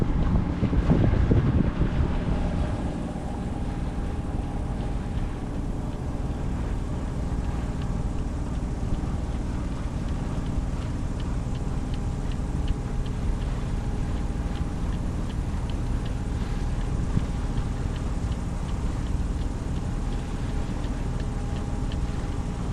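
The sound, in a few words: wind while sailing a sailboat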